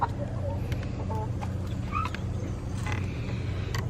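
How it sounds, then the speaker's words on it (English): Bantam chicken clucking in a backyard coop, a few short, fairly faint clucks scattered over steady low outdoor rumble, with no voices. "We'll see if that Bantam finally laid us another egg."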